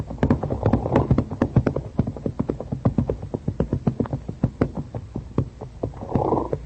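Several horses walking and trotting toward a watering pond among trees, hooves clip-clopping in a steady, overlapping rhythm close by, with brief snorts or rustles and no talk.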